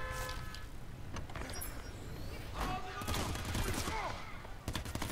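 Enemy gunfire in Crackdown 3, scattered sharp shots and bursts among vehicle and game noise, fairly faint overall, with a voice talking over parts of it.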